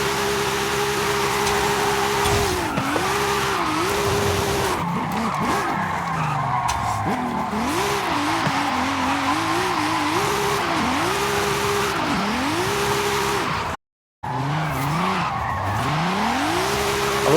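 Nissan 370Z Nismo from 2019 drifting in Forza Horizon 5, engine droning loud and steady with repeated rising and falling revs and tire squeal through most of the run, broken by a brief cut near the end.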